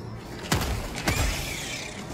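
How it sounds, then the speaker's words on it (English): Weapon reload in the video game Helldivers 2: two sharp mechanical clacks about half a second apart, like a magazine seating and a bolt racking, heard close over a low game background with no talk. "Reloading."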